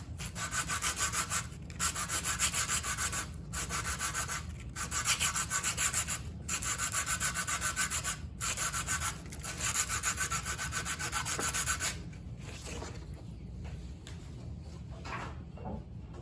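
Hand sanding a piece of wood along the grain in a shop: steady, rhythmic back-and-forth rasping strokes, close and clear, with brief pauses between passes before quieter rubbing at the end.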